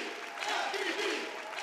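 Crowd noise fills a Ninja Warrior Austria studio, a steady mass of audience cheering and murmur held at an even, moderate level through a short stretch.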